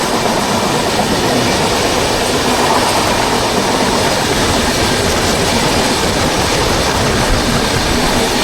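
Loud, continuous rumbling of a moving train with steady rattling and roar from the rails, heard from inside and unbroken throughout.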